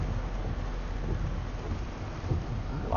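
Thunder from a storm with lightning, a steady low rumble rolling on throughout, with a broad noisy wash that sounds like rain or wind, fairly loud and close, with no talking.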